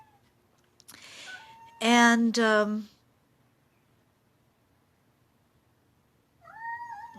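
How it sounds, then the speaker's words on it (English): A cat yowls indoors in two long, drawn-out wails close to the microphone, with a softer meow near the end and a brief word of speech before them in an otherwise quiet room. "oh, my cat is yowling."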